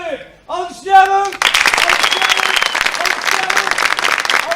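Wedding guests at an Azerbaijani toy celebration break into dense, loud applause that swells in after a brief spoken introduction and then continues steadily to the end.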